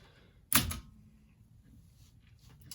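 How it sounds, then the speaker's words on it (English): An Olympia SM9 typewriter gives one sharp, loud mechanical clack close up, followed by near quiet and a few faint clicks toward the end. "I can type pretty quickly without worrying about locking up the type bars"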